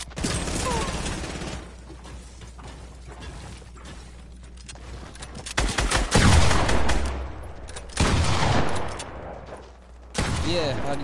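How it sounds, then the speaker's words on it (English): Shotgun blasts in a squad-based video game ring out in loud, heavy bursts, clustered near the end, over steady background game noise with someone talking excitedly between shots. "how do you like getting shotgunned"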